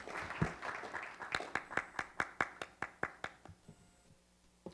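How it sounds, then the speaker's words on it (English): Forum audience welcoming an ambassador with applause, a faint, fairly sparse round of clapping that settles into a steady rhythm of distinct individual claps before fading out. "With our applause, ladies and gentlemen."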